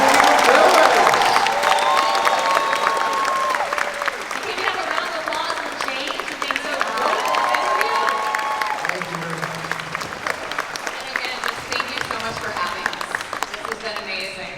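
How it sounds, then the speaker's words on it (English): An audience at a Resident Evil Village cast Q&A at the Midsummer Scream convention gives a big sustained round of applause with cheers, loud at first and slowly tapering over about fifteen seconds, voices heard over it. "let's just hear a big round of applause for our incredible performers"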